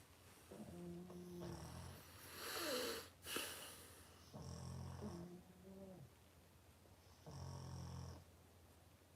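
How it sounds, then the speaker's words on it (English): Pets snore in a quiet room: three or four slow, rasping snores with snorty breaths between them, soft and close, with no talking. "We got a snore off over here."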